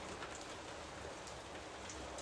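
Steady rain falls without pause, a dense even patter with close drops spattering on a surface, no thunder and no voices.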